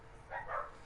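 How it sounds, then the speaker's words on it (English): Dogs barking in a home somewhere in the background, a muffled, short burst of barks that stays faint behind the room. "sorry about the barking in the background"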